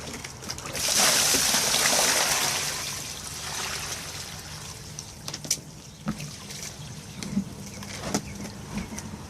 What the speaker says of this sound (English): Let me set the tripod up here so I can pour this out